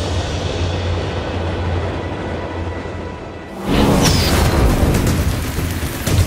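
A modified grain train in Australia during harvest, caught in a storm: a steady low rumble with rushing wind suddenly opens into a loud, roaring wash of noise partway through that continues to the end.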